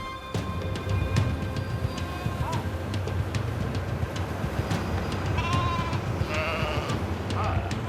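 Sheep bleat on a lush grassy pasture on the volcanic Vestman Islands, several animals calling at moderate distance in a loose, repeated series over a windy outdoor ambience.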